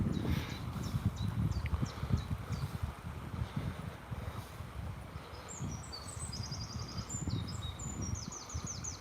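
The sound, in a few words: blackbird singing in the morning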